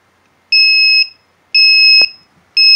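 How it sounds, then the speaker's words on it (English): A small add-on buzzer on a Tiny Whoop Beecore micro drone sounds in loud, evenly spaced two-tone beeps about half a second long, repeating roughly once per second, with a faint click between. "Now, I got a buzzer put on mine, so of course it's going to buzz too."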